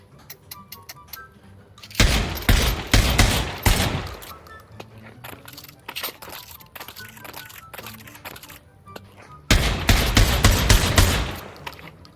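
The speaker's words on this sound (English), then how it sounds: "A nice thing they added into this weapon is that you can actually slam fire it." Rapid shotgun blasts from slam-firing a pump shotgun in the virtual reality shooter Pavlov VR, two loud bursts of repeated shots separated by quieter clicks and handling noises.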